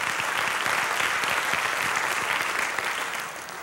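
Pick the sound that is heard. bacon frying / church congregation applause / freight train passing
church congregation applause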